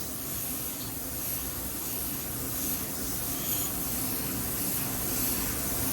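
Spray gun laying custom-mixed automotive paint in coverage coats, a steady, close, unbroken hiss running the whole time with no talk.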